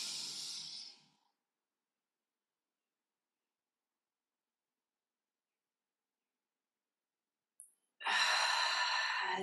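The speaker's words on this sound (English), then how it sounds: "Deep breath in." Deep breathing during a guided body-scan relaxation exercise: a soft, airy exhale fades within the first second, then long silence before a steady, close breath fills the final seconds.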